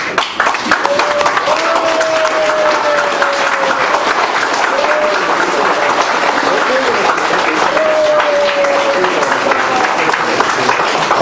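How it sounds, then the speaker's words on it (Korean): A large audience gives a standing ovation, sustained dense applause filling the whole stretch, with a voice calling out over it at moments. "우리 일어나서 기립박수 한번 주십시오."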